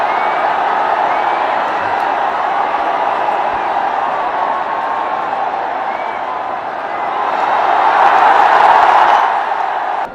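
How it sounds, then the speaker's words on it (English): A cricket stadium crowd fills in, making a dense, loud, continuous murmur that swells slightly toward the end, with no distinct cheers. "The crowd, there's crowd coming in."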